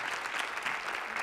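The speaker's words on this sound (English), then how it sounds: "let's give one more round of applause to all the great stories" Dense, even applause from an audience fills a short stretch at the City of Destiny Awards ceremony, a steady wash of many hands clapping with no voices on top.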